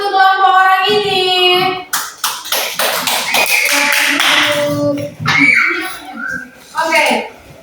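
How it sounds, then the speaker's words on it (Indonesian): Children in a primary school classroom clap their hands together in a loud, rapid burst lasting a few seconds, with voices talking and calling out before and after. "tepuk tangan untuk kelompok orang ini"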